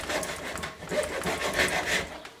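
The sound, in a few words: hand sawing a cut into plastic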